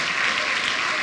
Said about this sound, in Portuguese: Se é para aplaudir, aplaude direito.